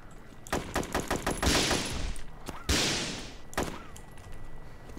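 Gunfire in the DayZ video game: a quick burst of sharp shots followed by two louder, heavier reports with long ringing tails, then a few scattered distant pops fading out.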